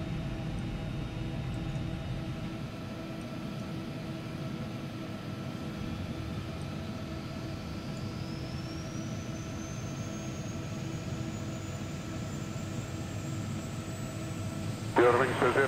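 A Carenado Citation jet engine running in the FSX flight simulator holds a constant roar, while a thin whine climbs steadily in pitch as it spools up. A brief louder burst comes at the very end.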